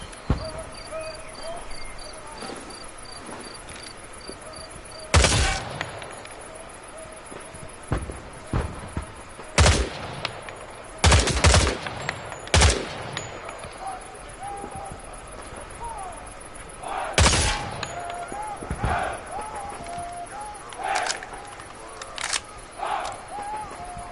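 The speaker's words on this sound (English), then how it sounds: "Shoot the targets ahead, aiming for the helmet to guarantee an instant kill." Gunfire in the Vietnam War shooter Hell Let Loose Vietnam while shooting at targets: sharp, loud shots spaced irregularly over a steady whirring insect-like ambience of crickets and jungle night sounds.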